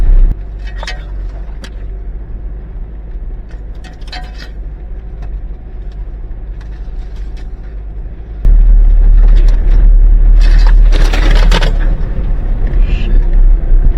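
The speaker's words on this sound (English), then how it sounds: "very narrow with branches and thorns scratching the sides of the truck continuously" Truck grinding along a very narrow, overgrown track in the Central Kalahari Game Reserve, branches and thorns scraping its sides; a steady engine rumble grows much louder partway through, with scattered scratching and rattling on top.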